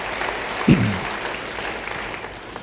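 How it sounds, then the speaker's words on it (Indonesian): A church congregation applauds during an Indonesian-language sermon, a steady wash of clapping that carries on evenly for a few seconds, with one brief louder burst near the start and no clear talk over it. "Yang percaya beri tepuk tangan bagi dia"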